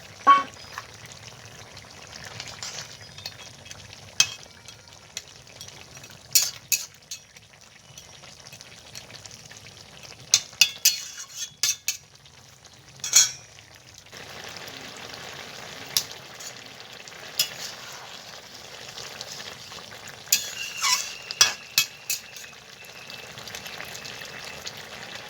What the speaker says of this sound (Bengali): এখন আমি ভেজে রাখা মাছটা দিয়ে দেবো।